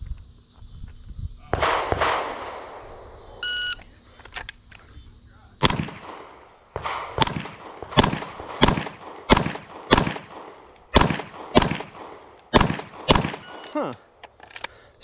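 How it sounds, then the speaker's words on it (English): A SIG M17 pistol fires a string of about a dozen sharp, loud shots, mostly in a quick even rhythm with a brief pause, after an earlier opening shot or two at a shooting range. "Shooting our first test of the day, shot from the holster, SIG M17."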